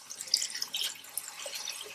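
Water is poured into a pot of mutton for Hyderabadi dum ka gosht, a brief, quiet trickle and splash of liquid that lasts about two seconds.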